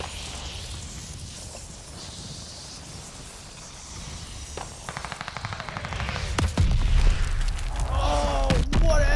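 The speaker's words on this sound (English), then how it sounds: "Friendly mortar fire coming." Friendly mortar barrage in Call of Duty: Vanguard: a steady rumble of battle gives way to loud rapid bursts and heavy booming impacts in the second half, the blasts growing denser and closer toward the end.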